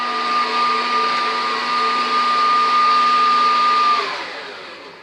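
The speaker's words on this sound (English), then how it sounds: "Have you not even got a hand mixer, Conchita?" An electric hand mixer beats cake batter for parkin, giving a steady loud whirring motor drone with a constant whine, running about four seconds before easing off.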